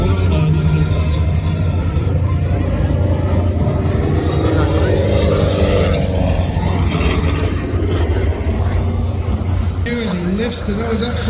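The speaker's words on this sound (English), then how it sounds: "The Wildcat aircraft is flying." Wildcat warbird aircraft flying at an air show, a loud continuous propeller-engine rumble that holds steady throughout with crowd noise and an announcer's voice mixed in.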